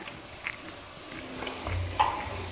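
Sliced bitter gourd and onion with green chillies and curry leaves sautéing in a pan, a soft continuous sizzle under light stirring and an occasional faint clink of a utensil, fairly quiet and close.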